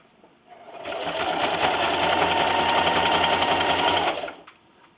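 Sewing machine running a zigzag stitch with length 3 and width 4 through a quilt-as-you-go Easter table runner, one steady continuous burst of fast stitching lasting several seconds, close and loud, with no talk.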